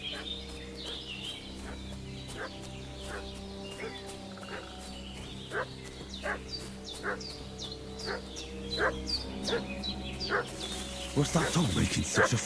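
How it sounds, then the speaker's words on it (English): A dog barks repeatedly in short, sharp bursts, moderately close, over a rural soundscape of croaking frogs and birdsong in Kingdom Come: Deliverance II, with the barking growing busier toward the end. "What's that dog making such a fuss about?"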